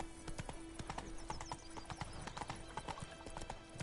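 A horse gallops in the video game The Witcher 3, its hooves drumming in a quick, steady rhythm of clip-clops over a faint background hum, with a brief neigh mixed in and no talking.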